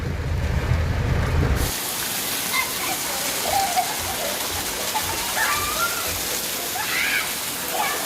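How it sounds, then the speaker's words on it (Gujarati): Heavy rain pours in Junagadh, a dense, loud, continuous wash of water. Low rumbling handling noise comes at the start, and faint voices are heard under the downpour. "આ જો ફૂલ વરસાદ ચાલુ થઈ ગયો છે"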